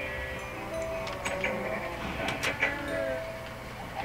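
Minecraft sheep bleat amid farm animals being bred, several short bleats over a steady game background hum.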